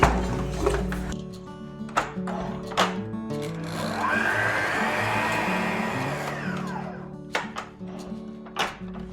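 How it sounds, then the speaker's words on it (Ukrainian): An electric mixer beats eggs and sugar at high speed in a bowl. A loud whirring motor drone swells for several seconds, with clicks and knocks of handling before and after. "І збиваємо на великій швидкості до пишної маси."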